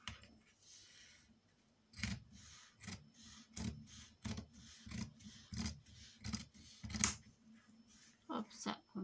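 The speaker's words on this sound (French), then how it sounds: "on va couper le surplus." Scissors trim excess blue jeans fabric for a mini album craft project: a series of sharp, close snips and rasping cuts in irregular bursts, separated by quieter rustling handling.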